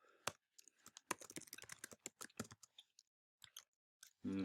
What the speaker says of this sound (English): So I'm going to type, whoop, that's a little big. Well, let's just type it.